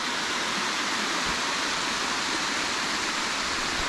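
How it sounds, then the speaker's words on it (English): Waterfall where two mountain streams meet in the Lake District, a steady, full rushing roar of falling water, loud and close with no other sounds. "Have a look at this waterfall."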